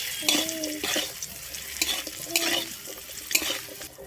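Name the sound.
coconut frying in pan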